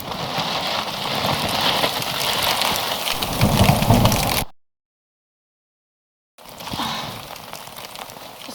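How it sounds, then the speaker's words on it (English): Heavy rain pours steadily on the ground outdoors with low rumbling thunder, then cuts to silence for about two seconds before the downpour returns. "So it's raining."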